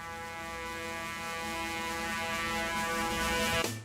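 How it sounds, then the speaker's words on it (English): The lone horn that opens a song, a sustained brassy tone swelling slowly in volume for several seconds before cutting off at the end. "why not start with that famous horn that opens the song?"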